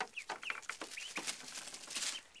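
Blue Swedish and Cayuga ducklings chirp and peep in quick, high, overlapping calls, close and continuous, with no talking.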